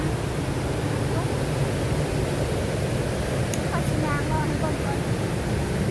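Water flows steadily through a bamboo channel or stream near a rice field, a dense continuous rushing wash that holds at a constant level throughout, with no clear voices over it.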